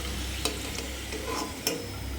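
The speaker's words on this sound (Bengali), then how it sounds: "এক এক করে আমি ভেজে নেব সমস্ত তালপুলিগুলো" Tal puli, sweet palm fritters, fry in hot oil with a steady, dense sizzle, punctuated by a couple of sharp clicks from stirring, close and continuous with no talking.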